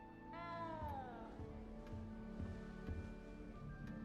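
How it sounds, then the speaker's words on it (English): A cat in Hogwarts Legacy gives one short, clear meow near the start, heard over steady game music and ambient background sound. "Little cat."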